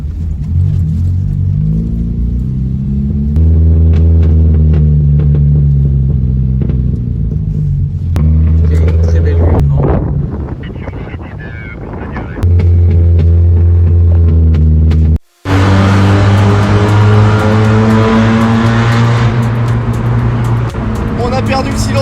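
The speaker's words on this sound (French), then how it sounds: "On a perdu le silencieux, ça fout un boucan monstre." Peugeot 205 with its muffler gone, driving on a rough, potholed mountain road in the Alps: a loud, steady low exhaust drone that surges and dips, with voices talking over it.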